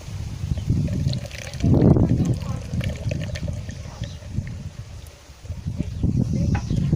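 Water poured onto sphagnum moss orchid substrate, a soft gurgling trickle with a louder splash early on and fainter dribbling afterward, close by, under occasional quiet talk.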